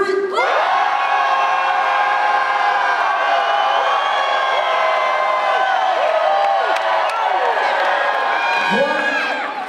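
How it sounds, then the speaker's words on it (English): A dense dance battle crowd roars and cheers for a popper at a summer street dance event, loud sustained shouting and whooping that holds steady and drops off just before the end. "If the crowd feel that Hozin has won, you make some noise at the count of three"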